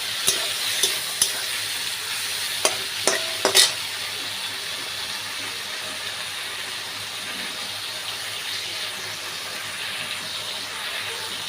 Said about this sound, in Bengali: তেল পাতাগুলো দিয়ে দিয়েছি চচ্চড়ি জন্য। ভালো করে ভেজে নেবো।